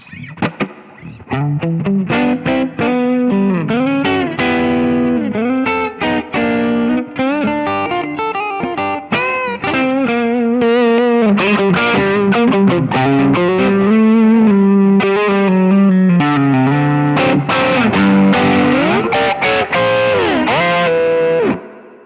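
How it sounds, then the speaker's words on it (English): A distorted electric guitar plays bluesy bends and chords, washed in springy reverb, loud and sustained with no voices. "attempt some blues with the spring reverb I've got in there"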